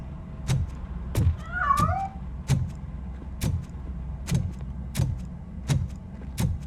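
A cat in the RoboCop: Rogue City video game escapes with one short meow, heard over a steady run of evenly spaced thumping footsteps.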